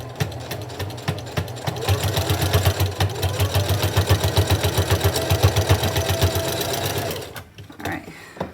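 Three-thread serger sewing machine stitching fabric for a handmade surgical mask, a loud, close, rapid rhythmic mechanical chatter running steadily for about seven seconds before stopping.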